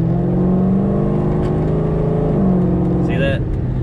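A 2009–2014 car fitted with a Kilduff Machine automatic shifter accelerates, its engine droning steadily and rising, loud and close, while someone talks over it.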